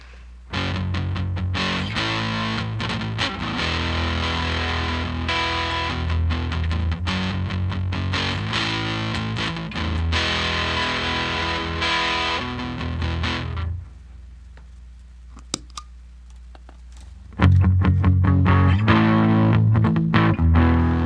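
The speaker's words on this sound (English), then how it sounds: "Distortion Plus is probably one of the oldest distortion pedals on the market" Electric guitar run through a distortion pedal, played in loud crunchy riffs, then a brief quiet gap with a few plucked notes before heavy distorted chords return.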